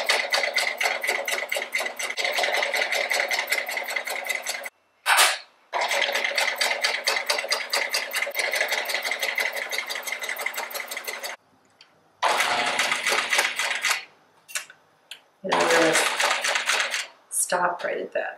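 Sewing machine stitching a reversible card holder, a fast steady rattling whir running in long close bursts that stop and restart, with brief pauses between runs.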